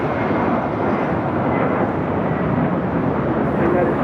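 An airplane taking off from runway 25 right at Los Angeles International Airport, a steady, loud broadband jet roar that holds evenly from start to finish with no breaks.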